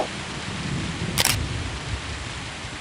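Rain and thunder on the Aztec map in Counter-Strike 1.6: a steady wash of rainfall with low rumbling throughout, broken by one brief sharp crack near the middle.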